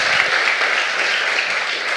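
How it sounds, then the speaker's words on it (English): An audience at a web development conference talk gives a round of applause, a loud, dense, steady wash of clapping that fills the whole moment without a break. "Huge round of applause for Isaac for coming"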